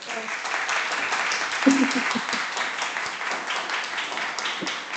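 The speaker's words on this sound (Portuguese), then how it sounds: "Deixa uma salva de palmas para a Rebeca." An audience claps for a guest at a science talk on astrobiology and space agriculture, a steady wash of applause lasting several seconds with a few voices mixed in.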